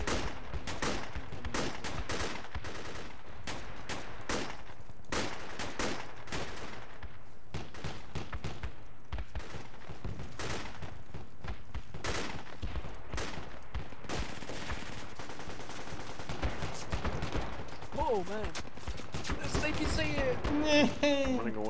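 Heavy-recoil weapons fire in Project Reality: dense, rapid strings of loud shots packed across the whole stretch, close and continuous, with voices talking over the gunfire.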